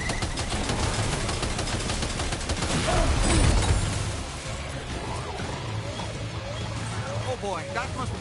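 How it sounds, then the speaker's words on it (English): Machine-gun fire in a video game, a dense stream of rapid shots running throughout and briefly louder near the middle, with no one talking over it. "Opening fire now."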